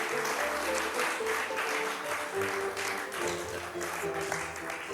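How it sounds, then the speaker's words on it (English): Sustained applause from a live studio audience after a radio drama performance of a Sherlock Holmes story, a dense, steady wash of clapping that fills the whole stretch with faint music underneath. "I listened to the applause for both plays."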